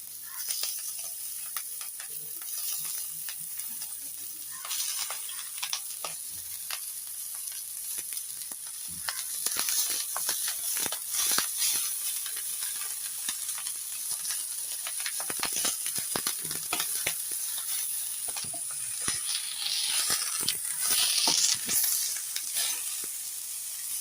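Vegetables with turmeric fry in a pan, giving a steady close sizzle and hiss with occasional stirring scrapes and clicks, carrying on evenly throughout without talking.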